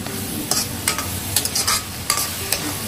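Tomatoes fry in oil in a wide pan for fried rice, giving a constant sizzle broken by repeated sharp scraping stirs at an irregular rhythm, close and fairly loud, with no voices.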